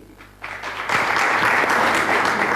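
Studio audience at an Islamic-knowledge TV quiz show in Pakistan applauds a quiz team, the Dukhtar-e-Mashriq team, which is leaving the contest. The clapping starts moderately and swells into loud, dense, sustained applause.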